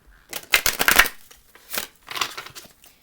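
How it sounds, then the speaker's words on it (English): Stiff playing cards are riffle-shuffled up close in a few quick, papery bursts of flicking and bridging, loud and crisp, with no voices. "These cards do not want to shuffle."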